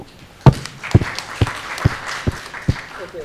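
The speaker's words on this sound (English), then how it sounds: "So we'll clap louder for each of the startup" Scattered claps from a conference audience at a startup social networking event, a handful of sharp separate hand claps spaced roughly half a second apart rather than sustained applause, moderately close over a faint room murmur.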